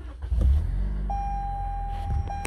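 A 2020 Toyota RAV4 AWD XLE engine starts by push button with a low rumble, then settles into a steady idle heard from inside the cabin. A sustained electronic beep joins midway and runs to the end.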